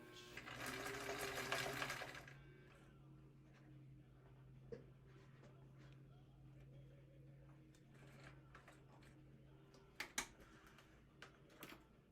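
A sewing machine back-stitches a minimalist wallet in a short, loud mechanical burst, then stops, leaving a low steady hum with faint scattered ticks and clicks.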